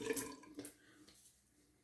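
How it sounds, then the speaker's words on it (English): Cold tap water runs into a bathroom sink during a straight-razor shave rinse, a brief splashy burst that fades quickly into a faint trickle, close and alone. "Let me get a little more of a rinse here with cold water"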